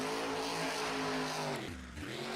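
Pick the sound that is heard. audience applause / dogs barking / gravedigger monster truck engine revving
gravedigger monster truck engine revving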